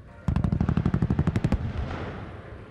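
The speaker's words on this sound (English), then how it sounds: "Simulated strafing run." Rapid machine-gun bursts from a simulated strafing run at an air show with Vought F4U Corsairs overhead, a loud fast rattle lasting over a second before fading into a rumbling echo.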